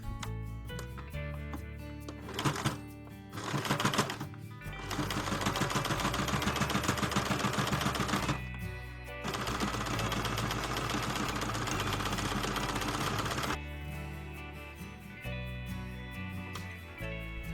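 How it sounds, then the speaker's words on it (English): Sewing machine stitching along a folded apron waistband, with stretches of fast, steady mechanical whirring broken by pauses, short bursts and softer handling sounds, close and moderately loud. "I folded the waistband into half and sew it all along the stripe."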